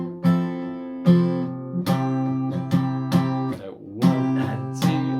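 Acoustic guitar strumming the chorus of a song, mostly down strums in a steady eighth-note rhythm with one skipped beat, about nine crisp close strums ringing alone.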